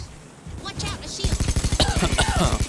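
Enemy gunfire in Payday 2: rapid automatic fire in a fast, even stream of sharp cracks, starting partway through and running loud to the end, with a voice talking over it.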